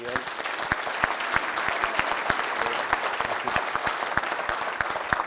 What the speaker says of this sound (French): belle main d'applaudissements pour Gabriel.